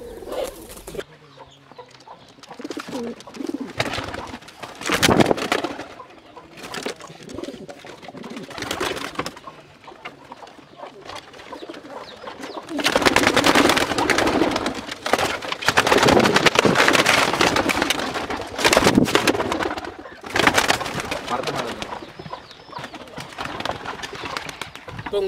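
Native country pigeons cooing on a pigeon farm, a steady flock chorus of soft, repeated coos and clucks that swells louder in stretches, with no talking.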